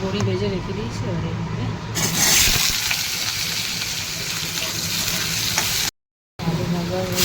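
Potatoes fry in hot oil in a wok, giving a loud, steady sizzle with scraping and stirring throughout and a brief break near the end.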